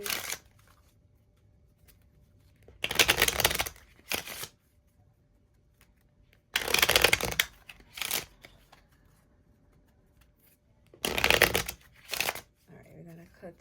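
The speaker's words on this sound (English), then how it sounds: "we're going to cut the deck, split it into 4" Three bursts of a tarot deck being shuffled and cut, each a quick riffle of cards followed by a few sharp slaps, close by with quiet pauses between.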